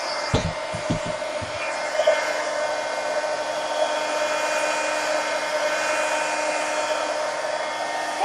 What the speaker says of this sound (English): get the heat gun and dry this